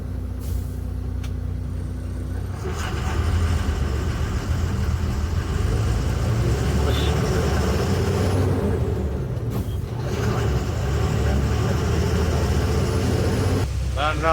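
A truck sets off with its diesel engine rumbling loudly and close, broken by several sharp air-brake hisses, while a voice talks over the engine noise.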